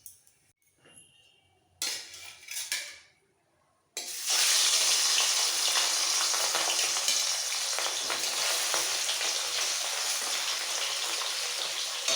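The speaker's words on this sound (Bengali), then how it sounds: "এইভাবে বাকি মাছগুলো ভেজে নেবো" Katla fish pieces frying in hot oil in a kitchen, a few soft clinks and handling sounds at first, then a loud, steady sizzle that runs without talk to the end.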